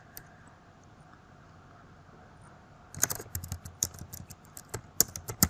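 Typing on a computer keyboard starts after a few seconds of near-silent room tone, with quick, irregular clacking keystrokes close to the microphone and some louder taps mixed in.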